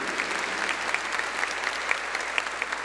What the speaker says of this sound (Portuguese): Vamos aplaudir aqui presente